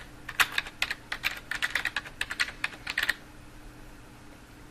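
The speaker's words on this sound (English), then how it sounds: "we can type in" Someone types a search query on a computer keyboard: a quick, uneven run of crisp clicking keystrokes lasts about three seconds, then falls silent, with no talking.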